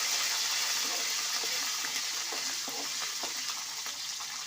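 Curry leaves and dried red chilies fry in hot oil for tamarind rice, giving a steady, loud, close sizzle with scattered crackles and pops, plus faint stirring bumps throughout, and no talking.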